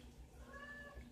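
An old house cat meows once, a faint drawn-out call in a quiet room near a saltwater mixing station.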